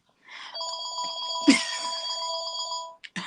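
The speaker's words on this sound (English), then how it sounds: "Why is the phone ringing?" An electronic telephone ring sounds in repeated bursts of bright, steady tones, fairly close and clear, with a louder knock partway through and a brief pause near the end before it resumes.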